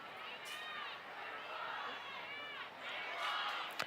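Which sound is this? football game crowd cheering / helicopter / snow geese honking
football game crowd cheering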